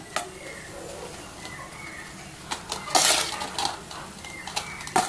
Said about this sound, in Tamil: இப்போ சாதத்தை கூட சேர்த்து நம்ம கலந்துடலாம்.